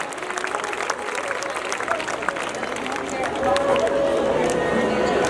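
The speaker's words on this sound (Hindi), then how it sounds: "जोरदार तालियों से स्वागत कीजिए।" Crowd applause at a sports school's annual function, a broad clapping roar mixed with audience hubbub and voices, growing louder partway through as cheering builds.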